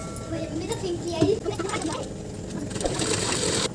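A sewing machine stitches the hem of a kurta sleeve, a steady mechanical whirr running close and moderately loud for a few seconds with a faint voice beneath it.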